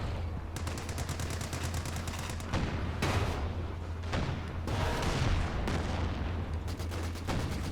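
Machine gun fire in the real-time strategy game Company of Heroes 2, rapid bursts rattling out in several volleys amid other battlefield gunfire, moderately loud with no talk over it.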